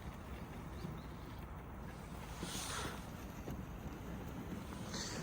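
Strong wind of about 8 metres per second in Hannover roars steadily and buffets the microphone, with occasional louder gusts hissing through.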